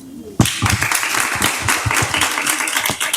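Classroom audience applauds a student after a school presentation, a burst of clapping starting abruptly and continuing steadily and fairly loud throughout.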